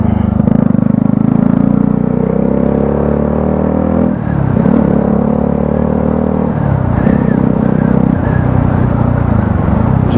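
Tractor engine running from close by, a loud, continuous low rumble and clatter with a couple of shifts in pitch as it labors, no talk over it.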